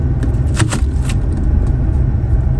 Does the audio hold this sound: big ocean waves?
no